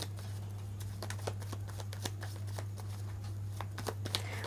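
Cards from an astrology deck being shuffled nearby, a run of soft, irregular riffling flicks over a steady low hum, with no talking.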